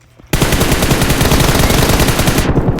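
Rapid automatic gunfire in a first-person shooter mobile game, a single sustained burst of fast, loud, evenly spaced shots starting abruptly after a brief quiet moment and lasting over two seconds.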